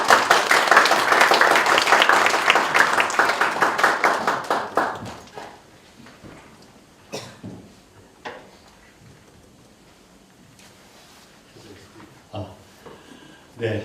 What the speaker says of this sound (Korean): 우리 나오실 때 큰 박수로 맞아주십시오.